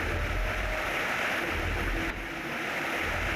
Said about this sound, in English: I don't like that water sound.